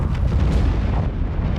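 A massive explosion of a nuclear facility in a film rumbles continuously, a dense, loud, low roar filling the whole stretch without any break.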